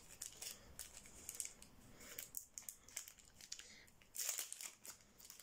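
Quick crinkling, tearing and snipping as a gift package is opened, a series of sharp rustling bursts close by, louder near the end, with no talking over it.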